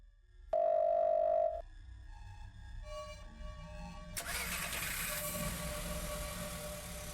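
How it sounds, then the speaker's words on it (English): In the horror game Firework, a car engine starts outside a door, a muffled crank and rumble that catches and settles into a steady idle after a brief tone at the start, with no voices. "Sound of a car starting is coming from outside the door."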